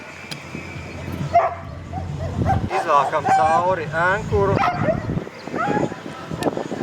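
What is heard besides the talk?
sled dogs barking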